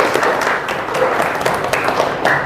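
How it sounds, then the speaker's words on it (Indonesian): A classroom of students claps together, a loud, close, busy patter of many hands that holds steady for a couple of seconds, with no talking over it. "Beri tepuk tangan."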